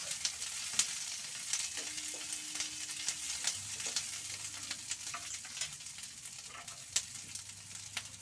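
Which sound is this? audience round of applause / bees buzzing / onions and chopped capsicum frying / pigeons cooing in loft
onions and chopped capsicum frying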